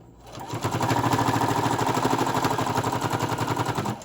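Sewing machine stitching quilted Christmas hot pads, starting up and running steadily at fast speed with a loud, even rattling chatter close by, no talking.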